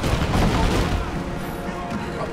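Rapid gunfire crackles and booms in a burst of shots during a Rise of the Tomb Raider firefight, dense and loud at first and then easing slightly, with a voice mixed into the din.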